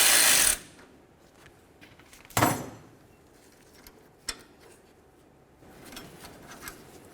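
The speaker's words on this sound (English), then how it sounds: "I'm going to have to loosen up my 2 pinch bolts right along there." A ratchet works loose the two pinch bolts on the outer tie rod adjusting sleeve of a 1988-2000 Chevy C/K1500 pickup, heard as a few sharp metallic clicks and bursts spaced apart, close and fairly loud.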